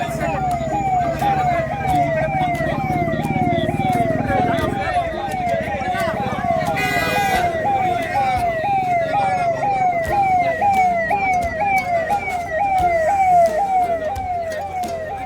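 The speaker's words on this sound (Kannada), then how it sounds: "ಆಂಬುಲೆನ್ಸ್" An ambulance siren wails in a steady repeating up-and-down cycle throughout, fairly loud and close, with traffic rumble and people talking underneath at an Ambedkar Jayanti protest gathering.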